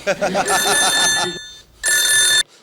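A telephone rings loudly and close in two electronic bursts separated by a short silence, with a brief voice mixed into the opening of the first ring.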